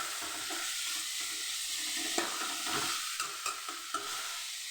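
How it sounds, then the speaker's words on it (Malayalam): Vermicelli upma being stirred and sautéed in a pan, a steady soft sizzle with scraping spoon strokes and a few sharper knocks toward the end, fairly quiet and without talk. "ഇളക്കി വഴറ്റാം"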